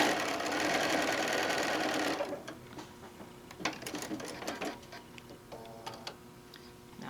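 A sewing machine stitching a quilt, a steady fast mechanical whir running loud and close for about two seconds, then stopping and giving way to quieter handling clicks and rustles.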